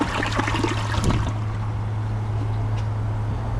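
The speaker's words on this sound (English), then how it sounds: "let's give it a flush" A 2025 Kohler Highline Arc toilet with a tall tank flushes in a tiled bathroom, a loud rushing swirl that settles into a steady trickling refill, with a low constant hum underneath and no voices.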